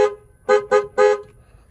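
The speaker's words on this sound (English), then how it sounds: "here's the Nissan's horn." A Nissan Xterra horn sounds: one short honk, then two quick blasts in succession, loud and close in a quiet setting, with a bright, tonal car-truck blare.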